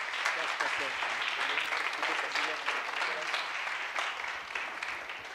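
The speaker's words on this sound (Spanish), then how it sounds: "por qué no lo recibimos con un fuerte aplauso a Mariano" An audience at a Christian community gathering applauds loudly and steadily, a close, dense burst of clapping that carries on for several seconds and eases slightly toward the end.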